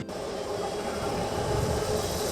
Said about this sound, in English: Here comes the high-speed train.